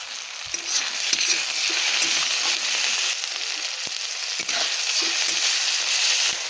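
Chopped tomatoes and salt hit a hot pan for an egg curry, giving a steady close sizzle scattered with crackles and the scrape and knock of stirring.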